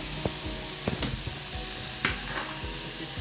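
Cooked, softened rice sizzles steadily in a hot pan, with a constant frying hiss broken by several sharp scraping clicks as a utensil turns and stirs the grains; close and fairly loud, with no talking.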